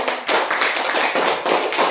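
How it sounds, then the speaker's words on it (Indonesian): A short burst of hand clapping from a small group of students in a classroom, brisk and fairly close, lasting about two seconds. "Tepuk tangan dulu."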